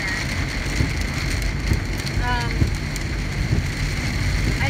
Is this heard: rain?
yes